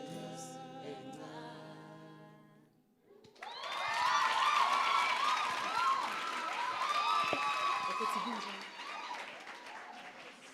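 After singing fades out, an audience gives warm, sustained applause, a dense crowd of clapping hands with a few whoops that stays strong for several seconds before easing slightly.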